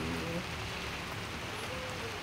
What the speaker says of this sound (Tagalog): Is talagang malakas ang ulan.